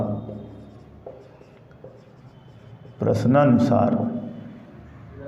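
Pen or chalk writing out a physics numerical problem on interference, with soft continuous scratching strokes beneath a man's explanatory speech.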